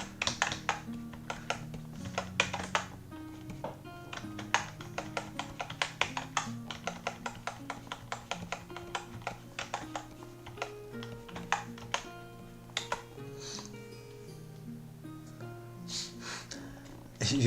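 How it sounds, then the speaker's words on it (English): Keys clatter in quick irregular bursts on a computer keyboard, close and steady, with occasional pauses. "was it your cat typing on the keyboard?"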